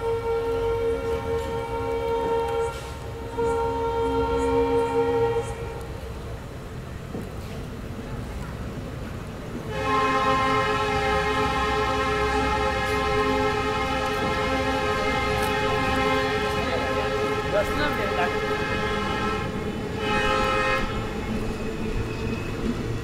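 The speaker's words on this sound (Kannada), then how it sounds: "ಇದು ನಮ್ಮ Vijayapura Yeshwanthpur special train ಹೊರಟ್ಬಿಟ್ಟಿದೆ Hagaribommanahalli railway ಸ್ಟೇಷನಿಂದ" A Vijayapura–Yesvantpur special train leaving Hagaribommanahalli railway station sounds long, loud horn blasts, one pause and then a sustained second blast, over rumbling station noise and some talk.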